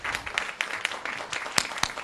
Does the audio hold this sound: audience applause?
yes